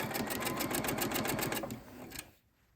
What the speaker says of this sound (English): Then using your 1/4 foot stitch on your sewing machine, go ahead and sew the two of them together